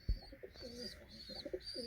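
Pigeons coo in a series of soft, rounded calls, several overlapping phrases repeating close by in an open-air coop setting, with a sharp thump at the start.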